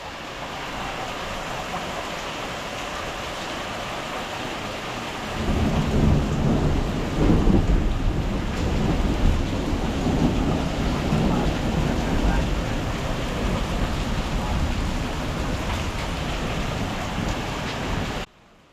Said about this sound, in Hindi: ये है ज़बरदस्त बारिश